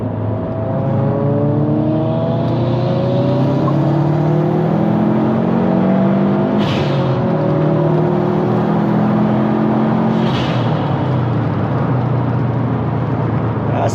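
A modified Subaru STI hatchback with a front-mount intercooler revs and pulls away, its engine rising in repeated climbing sweeps, loud and close, with a steady low rumble underneath.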